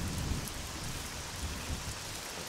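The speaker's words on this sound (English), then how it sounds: "It seems a thunderstorm now." Steady rain pours in the video game SCUM during a thunderstorm, a dense even hiss with low rumbling underneath, constant and fairly quiet throughout with no voices.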